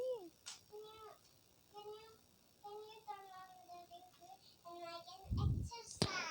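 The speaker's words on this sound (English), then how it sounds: "Ah, that cat again." A cat meows several times in short, rising and falling calls, fairly close, with a brief rustle and a bump near the end, in the mobile game Lily's Garden.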